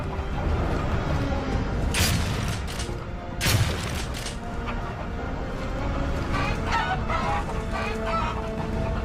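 A chicken clucks amid the noisy battle soundscape of Gears of War 3, its squawks and cackles mixed with sharp bangs and dense, loud background clatter throughout.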